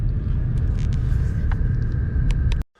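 Car interior while driving through rural Georgia: a steady, close low rumble of engine and road noise with a faint whine and occasional small knocks, ending abruptly.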